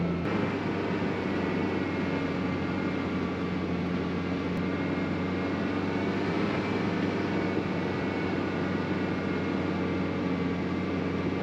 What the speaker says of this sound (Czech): Slyšíte ten motor?